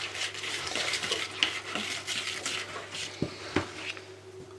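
A whisk works through thick peppermint chocolate filling in a bowl, giving steady scraping and stirring with a few sharper knocks against the bowl, fairly close and moderately quiet, with no voices.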